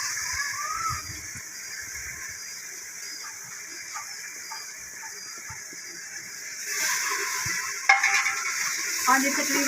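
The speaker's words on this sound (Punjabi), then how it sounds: "ਤਕਰੀਬਨ 2-3 ਮਿੰਟ ਨਾਲ ਅਸੀਂ ਮਸਾਲੇ ਨੂੰ ਭੁੰਨਣਾ ਹੈਗਾ, ਹਲਕਾ ਹਲਕਾ ਪਾਣੀ ਦਾ ਛਿੱਟਾ ਲਗਾ ਕੇ" Masala and onions roast in a pan with a steady sizzle and occasional stirring scrapes, and a sharper hiss bursts up when water is sprinkled in.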